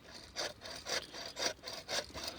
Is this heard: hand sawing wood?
yes